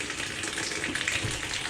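Hot tap water runs steadily into the bottom drain area of a GE dishwasher that isn't cleaning properly, a continuous close hiss and splash with no talking.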